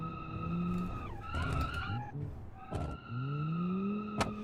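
Tires screech and skid as a car drifts in BeamNG, the squeal sliding up and down in pitch over a steady engine note, with a brief thump and scrape partway through.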